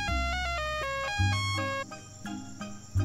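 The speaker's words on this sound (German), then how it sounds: "Ist das jetzt der Klingelton von dem Handy aus Jurassic Park 3?" A satellite phone ringtone in a video game, like the phone from Jurassic Park 3, plays a bright electronic melody of short stepped tones, loud and alone over a low rumble.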